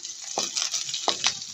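Onions sauté in a frying pan for a Filipino patola dish, giving a soft, steady sizzle with a couple of light stirring scrapes, close by and brief, without speech.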